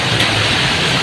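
Rain falls steadily on the Makati skywalk, a loud dense hiss filling the whole stretch without a break.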